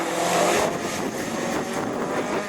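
Rallycross cars from a French championship Division 4 race at Lessay roar through a long sweeping curve, a loud, continuous engine drone building speed with broad wind-like rush and no talk over it.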